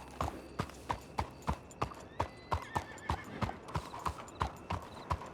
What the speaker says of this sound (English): Oh, there's a horse.